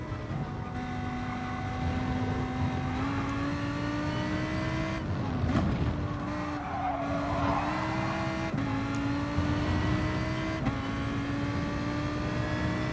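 Lamborghini engine droning steadily in a racing video game, a sustained harmonic tone with gear-shift steps and rising pitch over roughly thirteen seconds, fairly loud with no talk.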